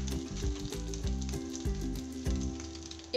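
Hilsa fish frying in a banana leaf wrap over a low gas flame, with a steady close sizzle and faint pulsing crackle throughout.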